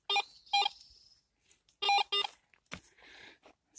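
A metal detector sounds its signal tone over a buried coin on a riverbank: short, clear electronic beeps in two pairs, followed by faint scuffing, with no talk.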